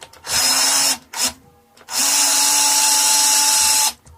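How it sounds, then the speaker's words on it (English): An electric screwdriver backs screws out of a Squier Affinity Telecaster guitar. It whines loud and close in three bursts: a short run, a brief blip, then a long steady spin after a pause. "the thing to remember when using the electric screwdriver is you always want to begin your unscrewing with enough downward pressure"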